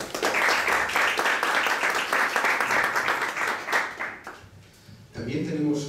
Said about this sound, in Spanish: me gustaría un fuerte aplauso de bienvenida para nuestro conferenciante